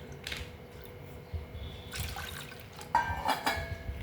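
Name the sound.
water poured into bowl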